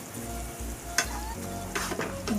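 Maggi masala noodles stirred in a frying pan, soft scraping and a light sizzle with a couple of sharper utensil clicks, close and steady under a low hum.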